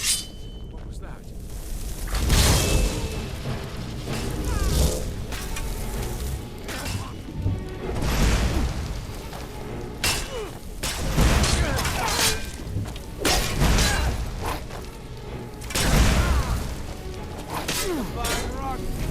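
Heavy rock cannon impacts in Skyrim: repeated booming crashes and thuds landing every couple of seconds, loud and close, with scattered debris and clattering between hits and a voice talking underneath.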